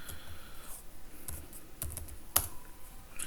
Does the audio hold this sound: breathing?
no